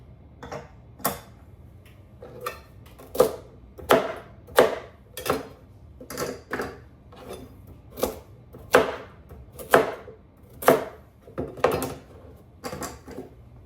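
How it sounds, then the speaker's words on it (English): Carrots get rough chopped on a cutting board during gluten-free dinner meal prep: a steady run of about seventeen crisp, evenly spaced knife strikes, close and clear with no talking. "I'm gonna rough chop my carrots, throw those in there"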